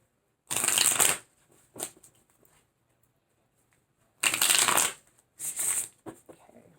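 Tarot cards are shuffled close up in three quick riffling bursts separated by pauses, with a few soft taps and card handling between them.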